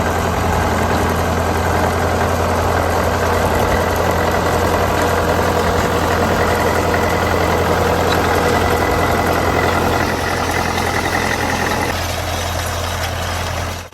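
An International Harvester McCormick B-23 tractor engine runs steadily up close, a loud, continuous low idle with a deep rhythmic thrum and a mower attachment turning alongside, the level holding constant throughout.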